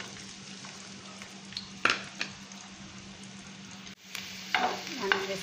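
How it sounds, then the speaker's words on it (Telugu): Onion fries in hot oil in a pan for a drumstick and tomato curry, giving a faint, steady sizzle with a few sharp clinks and scrapes of a spatula. "సో ఆయిల్ హీట్ అయిన తర్వాత, ఆయిల్ హీట్ అయిన తర్వాత ఆనియన్ వేసుకుందాం."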